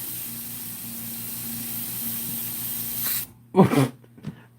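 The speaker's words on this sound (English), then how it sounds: "Now I'm going to easy peasy overspray." Paint spray gun on a cheap air hose overspraying, a steady close hiss of air and paint for about three seconds that cuts off, followed by a brief burst of noise.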